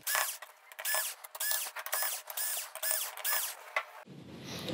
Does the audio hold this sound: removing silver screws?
yes